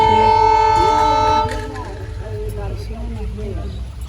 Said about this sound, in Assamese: আমাৰ ট্ৰেইন আহি আছে পিছফালে